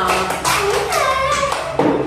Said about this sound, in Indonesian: Tepuk tangan buat Sila.